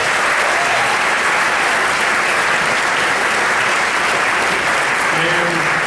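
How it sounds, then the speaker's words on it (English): Audience applause at a Valley Presbyterian Hospital event honoring the center's directors: a dense, steady wash of clapping from a room full of people, loud and continuous, with a faint voice surfacing near the end. "A big round of applause."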